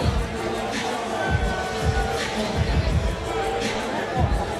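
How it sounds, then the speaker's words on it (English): Crowd at a Karate Combat event chanting in a rhythmic pulse of voices and stomps, with a commentator talking over the steady arena din. "I know the crowd are chanting it"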